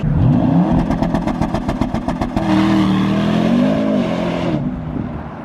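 A Porsche Panamera GTS drives at night along a long straight on a snowy, very slippery road, its engine revving with rapid pulsing bursts, then settling into a steady, loud drone that fades slightly toward the end.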